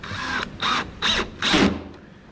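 A screw being driven with a power driver to fit a drawer guide on a night desk: four short whirring bursts close by, each about half a second long with brief gaps between, and no speech.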